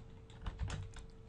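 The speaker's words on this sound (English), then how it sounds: "rolling the dice" Quick clattering keystrokes on a computer keyboard while writing program code, a short burst of close, light taps at an uneven rhythm with no voices.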